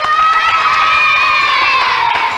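Children in a French TV studio audience cheer and shout continuously at high pitch, a loud sustained crowd roar with no clear individual claps standing out.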